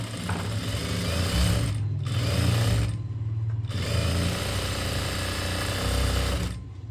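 Sewing machine stitching a blouse, running in steady loud bursts with a rapid mechanical chatter and a few short pauses between runs, close and continuous with no voices.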